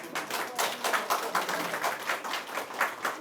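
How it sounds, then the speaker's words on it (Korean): A small group at a provincial governor's press briefing on low birth rates claps in a short, fairly soft, steady round of applause with no voices over it. "지사님 이쪽 한번 국민에서 박수 한번 주시죠"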